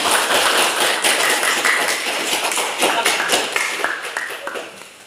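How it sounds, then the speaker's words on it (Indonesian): A classroom audience applauds a group of presenters, with dense steady clapping that gradually thins and fades toward the end. "berikan aplaus bagi teman-teman"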